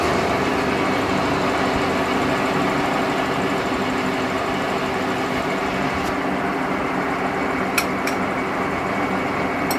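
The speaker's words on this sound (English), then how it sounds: "Let's start the mill. The RPM is about 5 or 600," A milling machine runs at about 500-600 RPM with the table fed by hand, giving a continuous, even mechanical hum throughout, with a couple of faint clicks.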